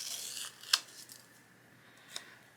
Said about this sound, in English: And then I just take and cut off any excess with a pair of scissors.